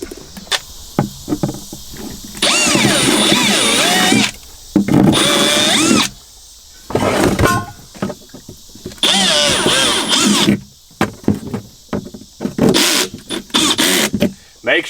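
A power drill whines in repeated long bursts, starting and stopping as it bores holes into the metal of a Jeep Wrangler, loud and close with brief clattering between runs.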